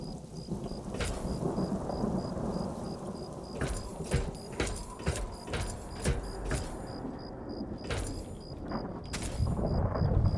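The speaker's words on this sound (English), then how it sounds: "there has to be a storm coming in too" Thunderstorm in Fallout: A Tale of Two Wastelands near Rivet City, with steady heavy rain and a series of sharp thunder cracks and rumbles, loud and close, with no talking.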